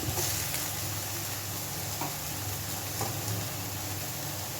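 Soy mince frying in a pan with previously fried potatoes just added, giving a steady, fairly loud sizzle with faint stirring scrapes and no talk.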